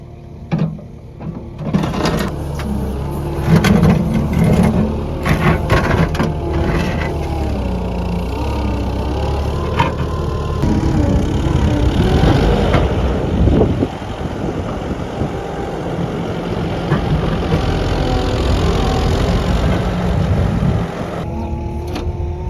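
A skid steer clearing big rocks on a farm runs its engine at a steady, loud drone throughout, with clunks and scraping of rock and machinery rising above it at times.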